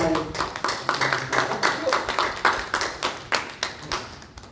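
Clapping in a church worship service as a pastor comes forward, a rhythmic series of sharp, evenly spaced claps, fairly close and loud, with voices talking underneath.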